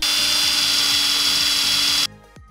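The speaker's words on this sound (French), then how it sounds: "maintenant percer sur les 3 repères qu'on vient de marquer" Power drill boring dowel holes into a wooden furniture panel for a custom entryway cabinet, a loud steady high whine running about two seconds before cutting off, followed by a faint short spin-down.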